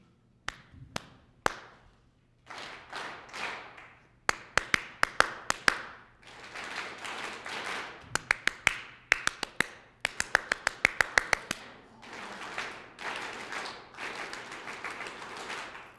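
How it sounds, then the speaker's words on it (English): Rhythmic hand clapping during a mindfulness exercise at a mental health talk: sharp claps in short patterns, single hits and quick bursts, each answered by a crowd clapping the same pattern back, with near-silent pauses between. "I want you to repeat the clapping sounds that I make."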